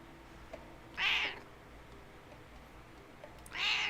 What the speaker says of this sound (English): My cat is hungry, if you can tell.